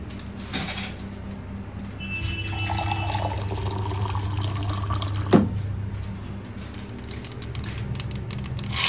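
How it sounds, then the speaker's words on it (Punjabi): A small amount of water is poured into dhokla batter in a home kitchen, a steady trickle running for several seconds with a brief sharper splash midway, with no talking over it. "ਇਹਦੇ ਵਿੱਚ ਹੀ ਪਾਣੀ ਪਾਵਾਂਗੇ ਥੋੜਾ ਜਿਹਾ"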